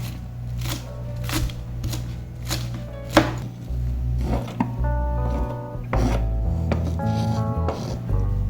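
A freshly sharpened knife chops food on a cutting board in a home kitchen, giving a run of crisp, close knocks in an uneven rhythm with no talking.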